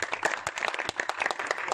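Brief, fairly faint burst of scattered clapping from an audience at a PUBG tournament prize ceremony, the claps sounding individual and uneven.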